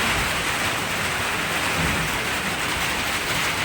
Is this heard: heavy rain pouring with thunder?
yes